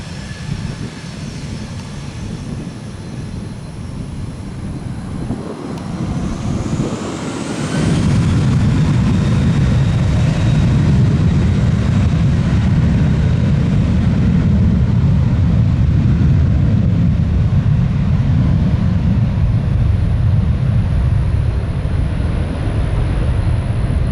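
A steady, loud low roar of airliner engines at Tampa airport builds after a quieter start and holds, with a faint high whine above it; no voices.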